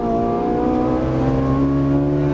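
A Ferrari 458 Italia engine drones steadily at full throttle on the Auto Club Speedway track, a loud, sustained high-revving whine with gradually shifting pitch and no speech.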